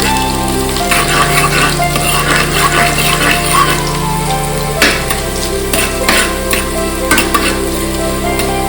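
Mustard seeds, onion, curry leaves and garlic fry in hot oil while being stirred, a loud close sizzle with scraping and stirring clatter, and a steady low hum running under it.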